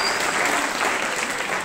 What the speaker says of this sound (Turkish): Sayın şahitlerimize de alkışlarınızla teşekkür ediyoruz efendim.